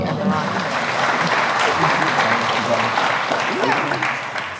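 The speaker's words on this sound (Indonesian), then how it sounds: "boleh tepuk tangan nggak apa-apa?" Audience applause at an Islamic lecture on Qur'an recitation training, a broad dense wash of clapping that holds steady throughout and eases slightly at the end, with faint voices mixed in.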